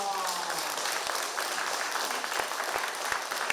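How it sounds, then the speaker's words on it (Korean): Audience clapping at a Buddhist birthday commemoration service honoring a senior monk, a dense steady wash of many hands filling the hall close up, with a faint voice at the start. "무신 보광 대종사님을 위하여 박수를 칩시다"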